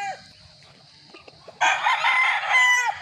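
A gamefowl rooster at a game farm crows loudly and close by after a second and a half of quiet farmyard background, the call held long and strained.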